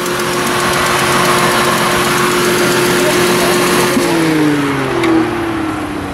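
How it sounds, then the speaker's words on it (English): A classic car engine runs loud and close with a small exhaust leak, a steady throbbing drone whose pitch drops slightly as the revs settle near the end. "I love that little exhaust leak."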